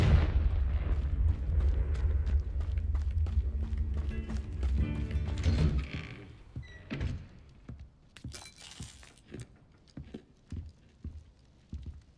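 Confringo blasting spell in Hogwarts Legacy, a heavy rumbling blast that holds loud for several seconds, then cuts off into scattered crackling debris and clattering impacts that fade out.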